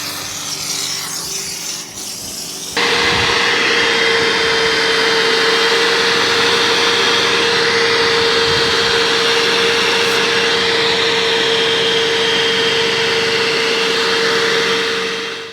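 An extractor vacuum cleaning the driver's floor mat and seat of a 2007 Subaru WRX starts up loudly after a brief quieter lead-in, then runs as a constant close suction whine and rushing airflow with faint rubbing.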